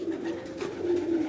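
A single pigeon coos close by in a loft or rooftop setting, a steady low hooting call that rises and falls in several drawn-out phrases over about a second, with no talk.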